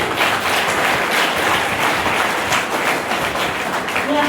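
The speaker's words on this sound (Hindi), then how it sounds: "अपने लिए ताली बजाइए" A school audience claps for themselves, a dense, steady patter of many hands filling the room at close range without a break.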